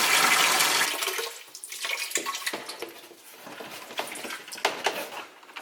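Water rushing into a saltwater mixing container, loud at first, then tapering into splashing and trickling with scattered plastic knocks.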